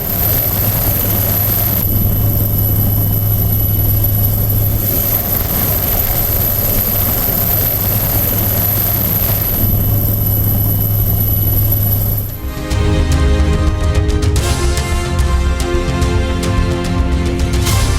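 Helicopter flying a food-delivery run to flood victims stranded at a bridge, its loud continuous rotor and engine roar steady throughout, shifting in tone near the end.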